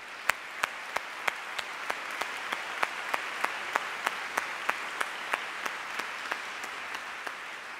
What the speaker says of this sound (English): Let's have one more round of applause for all of our award winners.